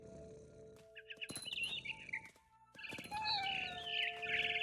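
A mother bird in the video game What Remains of Edith Finch chirps in short bursts of bright, high tweets, with two clusters of calls separated by a brief pause, set over a low ambient hum.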